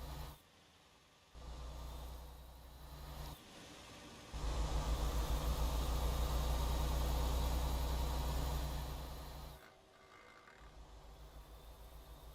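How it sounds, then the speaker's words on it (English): A truck engine idling roughly, a steady low rumble that shifts in level several times, growing louder and fuller in the middle before dropping back to a quieter drone. "that engine ain't sounding too great"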